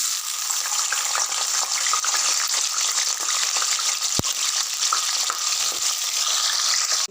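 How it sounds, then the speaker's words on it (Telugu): Potato pieces deep frying in hot oil for a crispy potato fry, a steady dense sizzle and bubbling that holds level throughout with a few faint clicks, no voices. "ఇప్పుడు ఇందులో మిగిలిన ముక్కలు కూడా వేసి ఫ్రై చేయాలండి"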